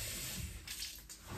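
Tap water runs steadily into a sink while baking trays are washed in a home kitchen, a continuous faint hiss with no talking.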